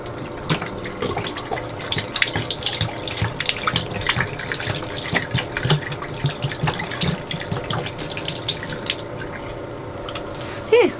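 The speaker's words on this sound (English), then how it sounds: "let me just dump this water out." Water is dumped out of a container into a sink, a continuous splashing and gurgling pour with drips, close and steady for several seconds.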